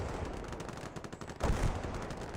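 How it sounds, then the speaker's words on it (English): Artillery fire in a Vietnam War video game, a dense, continuous roar of booming and rumbling battle noise, with one heavier blast near the middle and no speech. "Oh my god, is that artillery? That's ours artillery"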